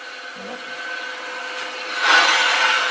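A wooden pen blank being opened up with a 5/32 drill bit, a brief close scraping, rubbing bite of the bit into wood that grows louder near the end.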